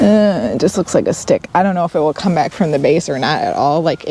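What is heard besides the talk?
No distinct noise like a dog, phone or traffic.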